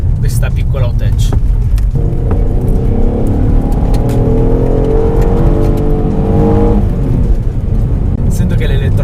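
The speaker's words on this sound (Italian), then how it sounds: "qui davanti abbiamo un motore veramente esagerato su una macchina di questo tipo" An Alfa Romeo 147 GTA with a strong front-mounted engine driving on mountain roads: a loud, steady engine drone fills the whole clip, rising in pitch through the middle as the car accelerates before settling again.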